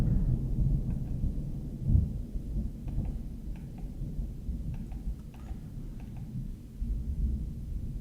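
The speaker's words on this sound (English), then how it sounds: "there's a little bit of a bad early morning storm rolling through" Early-morning storm with continuous low thunder rumbling under steady rain, one heavier swell near the start, distant and moderately quiet throughout.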